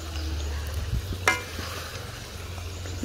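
Meat frying in a pot as biryani cooks, a soft steady sizzle with a low hum beneath and one brief clatter of stirring, no talk.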